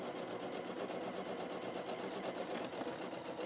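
A sewing machine stitches a quarter-inch seam on a quilted trucker hat, giving a continuous, fairly quiet rapid needle chatter close by.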